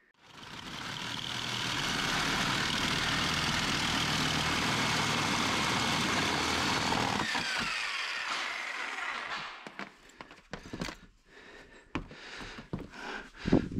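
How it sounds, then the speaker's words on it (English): A Sawzall reciprocating saw with a metal blade cuts through a workshop roof for a wood stove chimney, a loud, steady buzzing roar for about seven seconds that stops abruptly, followed by scattered knocks and clatter. "I'm just gonna probably use a Sawzall with a metal blade"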